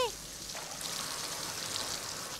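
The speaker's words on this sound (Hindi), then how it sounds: "ये एक झरना है।" A cartoon waterfall in a jungle river scene: steady broadband rushing water that holds constant throughout, fairly loud and alone.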